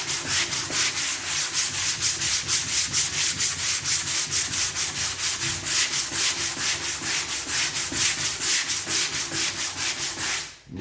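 A half-speed sander works putty smooth on a VW Beetle trailer fender, a loud steady rasping scrub with a regular back-and-forth pulse that runs without pause for about ten seconds before cutting off abruptly.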